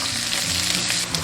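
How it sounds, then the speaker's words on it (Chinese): Dried seafood with ginger slices and scallion pieces stir-fries in rendered pork belly fat in a wok for Minnan radish rice, a loud, dense sizzle close by with light tossing sounds throughout. "海鲜干货炒香"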